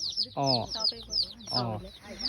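Hens clucking at a poultry farm run by a women's self-help group in Golaghat, Assam, two bursts of close, throaty calls with a pause between, over a low background murmur.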